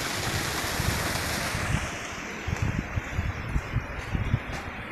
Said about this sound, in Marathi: सध्या पाऊस पडणं चालू आहे